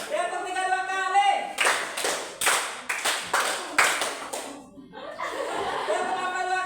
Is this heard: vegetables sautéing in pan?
no